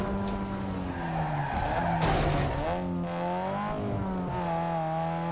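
A car skids in a PS2 racing video game on a rainy track. Sustained tire squeal rides over a droning engine, loud and continuous throughout with no talk.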